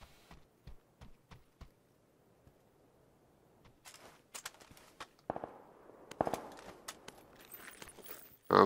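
Scattered sharp gunshot cracks from the PUBG video game, a handful of single reports spaced irregularly at moderate distance, with a busier cluster of shots toward the end, over a quiet background.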